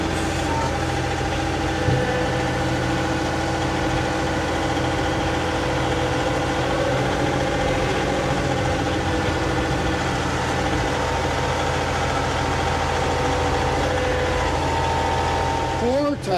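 A John Deere 2038R compact tractor with a Curtis Advantage cab runs steadily while clearing snow in a blizzard, a constant mid-pitched engine drone and vibration heard from inside the cab throughout.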